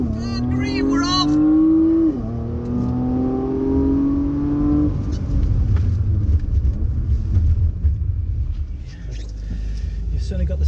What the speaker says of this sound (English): So we're going to go for launch control again.